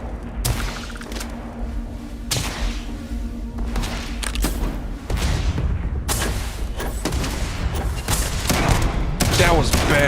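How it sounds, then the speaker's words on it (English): Gunfire in the video game Starfield: rapid bursts of shots fired while airborne, loud and dense over a rumbling backdrop, the volume swelling toward the end with no clear talk. "I love shooting while I'm in the air."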